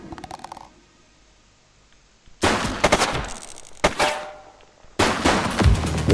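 Gunshots in The Precinct police game: three loud bursts of rapid gunfire, each sharp and close, separated by short near-silent gaps.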